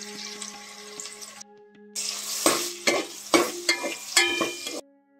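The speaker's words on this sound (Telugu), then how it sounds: "ఇందులో మనం ఒక కొన్ని మిరపకాయలు కొన్ని ఉల్లిగడ్డ చేసుకున్నాం, వేసి కలుపుదాం మంచిగా" Chillies and onions are stirred in a village-style cooking pot, with a steady sizzle broken by several sharp, loud scrapes of the spoon, close and without speech.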